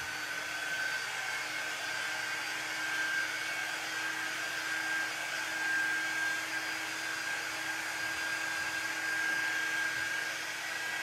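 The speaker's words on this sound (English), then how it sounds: "I need to just dry this edge." Steady whirring hot-air dryer blowing on the edge of a craft project, continuous and close with an even hum throughout.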